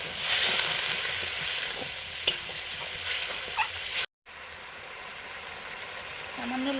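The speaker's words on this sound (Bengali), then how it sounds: "সামান্য জল দিয়ে মশলাটা কষে নিচ্ছে আলুর সঙ্গে।" Spice paste cooks with potatoes and a little water, giving a steady sizzle broken by occasional stirring knocks against the pan, a brief dropout midway and a faint background voice near the end.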